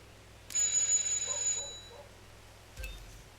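A doorbell rings at a house in the video game Hitman 2, a bright electronic chime lasting about a second, followed by a fainter second chime and a soft thud against a quiet background.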